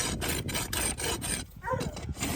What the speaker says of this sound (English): some people don't like to rasp all the foot.